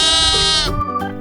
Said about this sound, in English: Sheep sound is ba, ba.